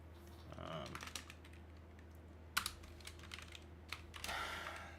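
Clattering keystrokes on a laptop keyboard come in uneven bursts of quick taps, close and fairly quiet over a low steady hum.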